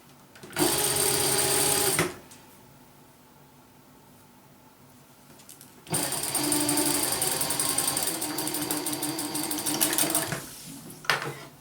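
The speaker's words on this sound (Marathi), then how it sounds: "आता आपण पुन्हा चेन शिल्लक असलेली चेन शिवून घ्यायची आहे" Sewing machine stitching along a zip chain, a loud steady motor whir in two runs, a short burst then a longer stretch, separated by a quiet pause, close by.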